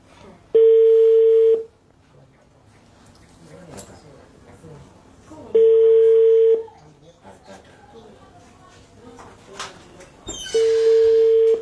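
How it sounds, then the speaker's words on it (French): WhatsApp call ringing out with three evenly spaced electronic ring tones, each about a second long, loud and close, separated by gaps where someone speaks. "C'est sur WhatsApp, je l'appelle."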